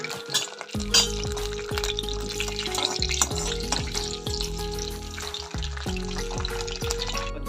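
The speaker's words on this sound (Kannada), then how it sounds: "ಸಾಸಿವೆ ಹಾಕ್ತಾ ಇದ್ದೀನಿ." Mustard seeds sputtering in hot oil and ghee for South Indian khara pongal, a busy crackle of sharp pops and spits over a continuous sizzle, close and lively throughout.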